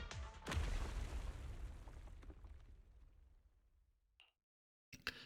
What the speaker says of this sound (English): The explosion causes the surroundings to collapse.